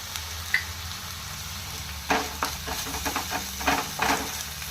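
Ginger-garlic paste and green chillies frying in a pan for a soya chunks curry, a steady close sizzle with clustered stirring scrapes and bursts of spitting, no talking.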